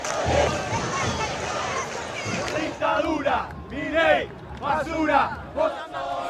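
Angry crowd of pensioners protesting in the street, a loud surging mass of shouting voices rising in waves, close and dense.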